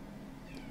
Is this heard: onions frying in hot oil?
no